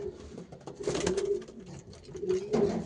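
Pigeons from a breeding loft, birds offered for sale, give soft, low, repeated coos in close succession, rising and falling in a gentle rhythm, with no voices over them.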